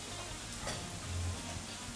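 Garlic sizzling in oil in a pan while cooking tomato sauce, a steady soft hiss with faint scraping or stirring noises, no talking.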